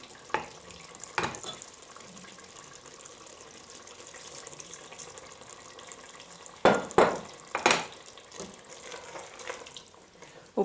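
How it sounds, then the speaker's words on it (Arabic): Water is poured into a simmering winter vegetable stew of potatoes and fennel in a pot, a few short splashing bursts over a faint bubbling background, close and fairly quiet. "توا باش نزيدها شوية ماء،"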